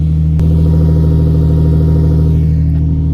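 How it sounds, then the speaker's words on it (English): A VQ40 engine fitted with a Flowmaster Super 44 exhaust runs close by in a steady, loud, low droning rumble that holds an even pitch throughout, with no voices. "It's just a Flowmaster Super 44."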